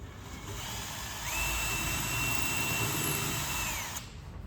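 Power drill running steadily on a 1965 Corvette door panel while screw holes are bored, a near, continuous whine rising in pitch for about three seconds before stopping.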